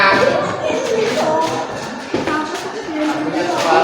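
Classroom clapping rewards a correct quiz answer: a dense, steady patter of many hands near and loud for the full few seconds, with children's and a teacher's voices talking over it.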